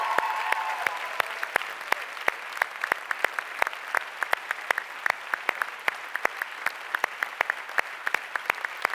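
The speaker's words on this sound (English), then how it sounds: "give a huge round of applause for an amazing session" A summit plenary audience on peace and conflict gives a round of applause after a session, steady crowd clapping with sharp louder individual claps standing out throughout.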